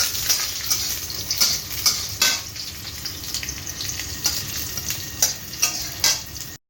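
Garlic with dried and green chillies frying in a pan, a continuous bright sizzle broken by repeated scraping stirs and soft clinks, close and alone.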